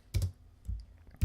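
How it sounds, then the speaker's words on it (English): A few separate keystrokes on a computer keyboard, three distinct clicks close by with pauses between them and no voices. "So I'll start typing aside, it's bringing it up, and I'll close it off"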